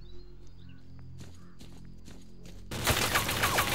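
Gunfire rattles in the shooter video game S.T.A.L.K.E.R. Clear Sky, starting as scattered distant shots over a quiet ambient hum and then swelling into a loud, continuous burst of close firing.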